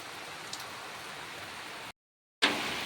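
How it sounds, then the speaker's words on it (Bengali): Sudden rain pouring steadily outside a house, a dense even hiss that cuts out briefly and then returns slightly louder. "তো হঠাৎ কেমন বৃষ্টি"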